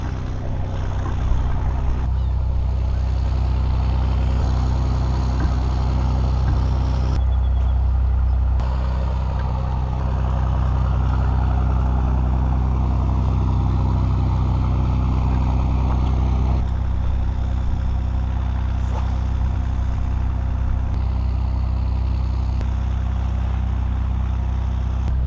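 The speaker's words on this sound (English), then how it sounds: "there's a tractor behind me" A tractor running nearby in farm fields, its engine giving a continuous loud low rumble with steady droning throughout and no talking.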